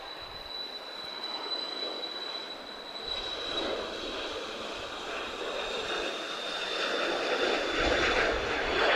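A Cessna 560XL Citation XLS Plus business jet at Lisbon Airport gives off a steady jet engine roar with a high turbine whine. The roar swells gradually over several seconds as the jet comes closer, and no one speaks.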